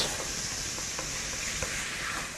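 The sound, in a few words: butter being stirred in a hot pan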